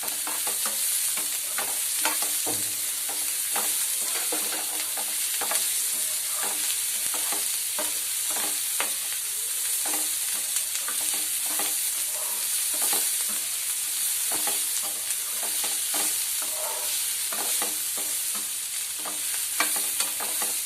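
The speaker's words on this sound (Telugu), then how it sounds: "ఇది కొంచెం పచ్చివాసన పోయేటట్టు ఇట్లా వేగితే బాగుంటుంది అన్నమాట." Cucumber pieces sizzle steadily in a pan while being fried for a drumstick leaf curry, a continuous close hiss broken by regular scraping stirs of a spatula.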